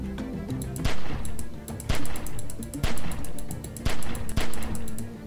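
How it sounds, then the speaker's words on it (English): Gunshots in The Walking Dead game, a series of sharp, fairly loud cracks spaced roughly a second apart over background music, with speech mixed in. "Remember, don't stop shooting."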